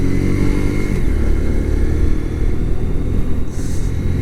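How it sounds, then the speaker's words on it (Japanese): A Kawasaki Z125 Pro motorcycle engine runs steadily at around 5500 rpm while riding through town at about 60 km/h, a loud continuous whirring drone mixed with heavy wind roar. "なんかこのエンジンこう走ってるとヒュルルルルルルっていうような音がしますね"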